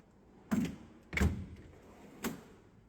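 Metal drawers of a mechanic's rolling tool box slide and clunk, three short bumps spaced about half a second to a second apart, close and fairly quiet with no talk.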